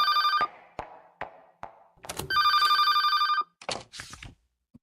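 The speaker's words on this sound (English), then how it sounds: "the moment I heard the ringtone, I remembered the name of the device that made that sound" A phone ringtone sounds in two trilling bursts amid scattered knocks and thumps, fairly close and clear, with no talk.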